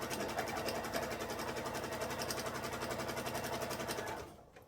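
A sewing machine stitches a beginner purse with handles and D-rings in one continuous, even, fast run close by, the motor hum and needle clatter steady until it winds down near the end.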